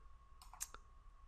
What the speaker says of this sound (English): click on this link here